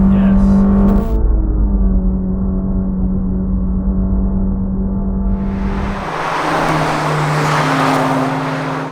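A Honda S2000 engine on a winding touge mountain road drones in a steady, close-up tone, then shifts and climbs in pitch with a rougher, louder, brighter edge as the revs rise toward the end.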